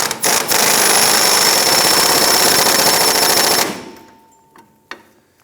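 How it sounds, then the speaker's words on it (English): An impact gun tightens an engine mount nut on a 1997-2006 Jeep Wrangler, with short bursts followed by a long, loud continuous rattling hammer that ends abruptly, then quiet with a couple of faint clicks. "Get our impact gun and we'll tighten that down."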